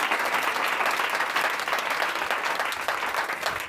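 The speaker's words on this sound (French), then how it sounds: "Acclame très fort le Seigneur Jésus" A church congregation claps steadily and vigorously throughout, a dense, continuous wash of applause with no speech over it.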